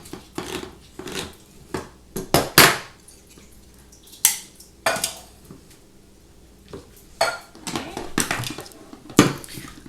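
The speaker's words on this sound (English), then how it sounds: "Pour the whole thing in." Spaghetti sauce ingredients going into a cooking pot, with scattered clanks and clatters of metal, utensils and containers, sharp intermittent knocks close by between quieter pauses.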